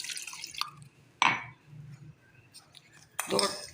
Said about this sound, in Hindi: चले मैंने इसके अंदर थोड़ा सा पानी डालूंगी।